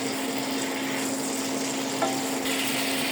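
Tilapia pieces go into a hot pan of oil and fry with a steady, close, even sizzle that carries on unbroken, with no talking.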